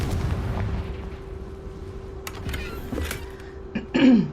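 A Confringo blasting spell explodes in the Hogwarts Legacy video game, giving a few sharp, bursting booms followed by a louder final blast near the end, with no talk.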